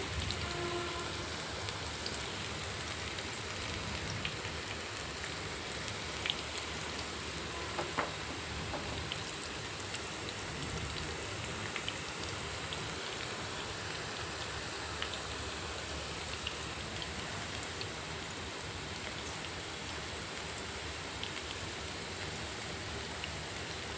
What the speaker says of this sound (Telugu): వర్షం చాలా జోరుగా పడుతుంది